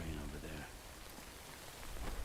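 Steady rain hisses in a video game, a soft broadband patter that runs the whole time while someone talks faintly over it.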